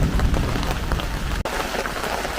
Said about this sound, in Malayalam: ഇന്നും ചെറിയ മഴ തുടങ്ങിയിട്ടുണ്ട് വലിയ കാര്യമായിട്ട് ശക്തിയൊന്നുമില്ല എന്നാലും നല്ല തണുപ്പായി ചെറിയ ചാറ്റ മഴ